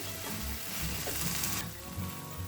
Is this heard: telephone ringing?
no